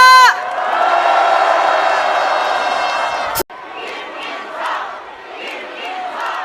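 A large crowd at an outdoor political rally in Korea roars and cheers loudly for several seconds. After a sharp cut, scattered shouts and chanting voices continue more irregularly.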